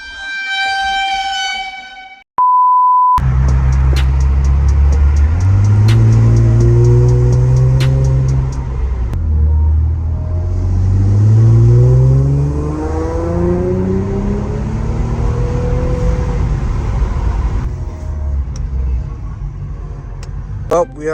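Tuned Infiniti Q50 running E85 revs up in several rising and falling sweeps with sharp exhaust pops and crackles, loud and close, after a brief horn-like tone at the start.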